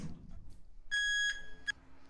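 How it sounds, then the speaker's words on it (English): Faint electronic beeps from an elevator alarm in a Roblox game, two or three short tonal pulses, one held slightly longer, over a quiet background. "That's the alarm. That's the alarm."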